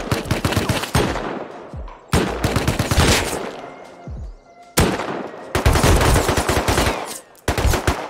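Automatic gunfire from a Tommy gun in the survival video game Rust, loud rattling bursts of rapid shots broken by brief pauses, the last burst short and clipped.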